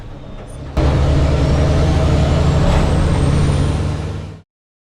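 Racing truck lapping the Nogaro circuit among other competitors, a loud sustained engine roar that rises abruptly, holds steady with a rising whine, then cuts off.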